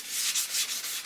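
Fine 600 grit sandpaper lightly scouring the plastic case of an Amiga 1200, a steady close rubbing swish with quick back-and-forth strokes, alone and fairly loud.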